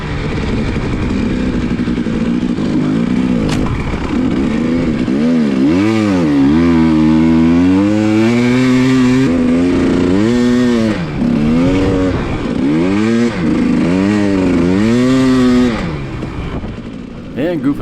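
Dirt bike fitted with an Acerbis VSL headlight, ridden across a frozen swamp on a winter night, its engine loud and close, revving up and down in repeated rising and falling sweeps.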